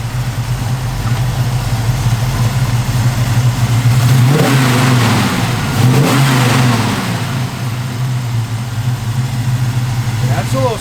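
A 1969 Chevrolet Camaro with a mild cam revs loudly up close, climbing and falling twice from a lumpy idle before settling back to a steady rumble.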